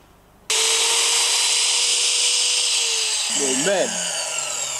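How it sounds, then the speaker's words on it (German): Steady rasping of a hand saw cutting through wood for a switch cover on a Jeep Cherokee camper build, continuous and close, with a brief spoken word partway through. "Nicht auf der falschen Seite sägen, ne?"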